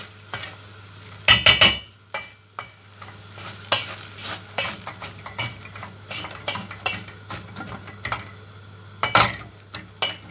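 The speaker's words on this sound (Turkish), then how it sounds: "Bununla patateslerimizi ezeceğiz." Repeated scraping and thudding strokes of a utensil mashing potatoes in a pan, irregular and close, with clatters of metal on metal.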